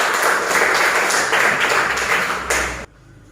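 Applause from a classroom audience during a teacher-training lesson session, a dense steady patter of many hands that cuts off abruptly near the end.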